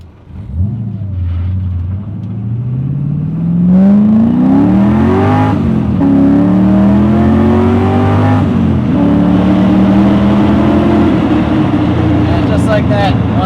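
An LS-swapped BMW E30 on a dyno pulls hard from first through third gear, its V8 roar climbing in pitch with each gear and dropping briefly at every shift, loud and close throughout.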